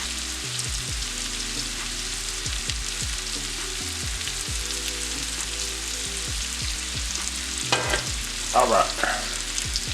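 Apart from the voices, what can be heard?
stirring crab legs and pasta sizzling in a pan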